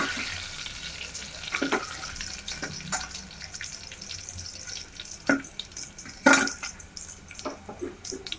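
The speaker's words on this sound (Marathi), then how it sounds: "तर आता मसाला फोडणीमध्ये चांगला परतवून घ्यायचा" Spice masala sautéing in hot oil tempering for a spicy chickpea curry, with a low steady sizzle, broken by several sharp scraping and clinking stirs from a utensil.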